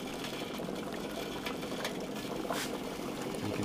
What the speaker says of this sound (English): You can hear that bubbling, it's kind of like a rattling sound.